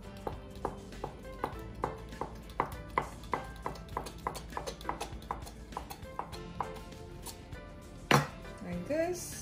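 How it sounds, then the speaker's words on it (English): Knife slicing through folded lhaphing on a cutting board, a steady series of crisp chopping taps at an even rhythm, close up and fairly quiet, ending with a sharper knock and a brief voice. "we're just gonna fold and then slice into"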